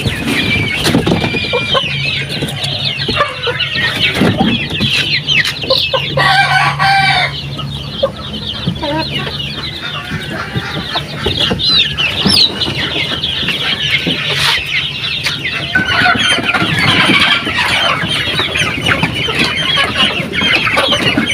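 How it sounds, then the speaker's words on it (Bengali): Domestic hens cluck steadily while pecking at water hyacinth fed to them beside a wetland, with a rooster crowing partway through amid a busy, close farmyard din. "এই যে দেখেন কিভাবে খায় আমার মুরগি"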